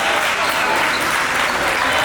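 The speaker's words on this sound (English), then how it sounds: "Let's give them another round of applause again." Crowd at a girls' basketball tournament clapping loudly and steadily, a dense, sustained round of applause filling the gym from start to finish.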